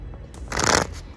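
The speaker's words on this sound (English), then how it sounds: "I'm going to shuffle the deck." A deck of playing cards shuffled once by a young magician at a kids' talent show, a short crisp riffling burst of about half a second, close and clear with no talk over it.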